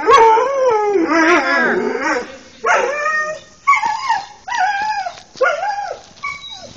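A dog howls and whimpers in a series of drawn-out, wavering cries with short pauses between them, close and fairly loud.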